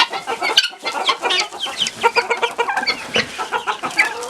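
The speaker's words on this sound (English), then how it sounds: "Down here I have a gray silky rooster and a bunch of little guineas" Gray silkie rooster and a group of young guinea fowl clucking and chattering close by in a coop, a busy overlapping stream of short calls with no pauses.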